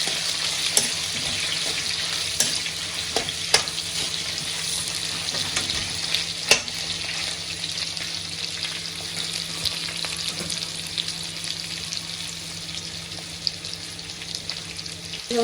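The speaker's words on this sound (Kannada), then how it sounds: "ಅದಕ್ಕೆ ಫ್ರೈ ಕೂಡ ಮಾಡ್ಕೋಬೇಕು. ಅದಕ್ಕೆ ಸ್ವಲ್ಪ ಹಾಕೊಂಡಿರ್ತೀವಿ. ನೀಟಾಗಿ ಫ್ರೈ ಮಾಡಿ. ಅದೆಲ್ಲ ಸಾಫ್ಟ್ ಆಗಬೇಕು ಈರುಳ್ಳಿ ಎಲ್ಲ." Onions frying in a pan for crab sukka, a continuous close sizzle and crackle with occasional sharp scrapes and taps of a stirring spoon throughout.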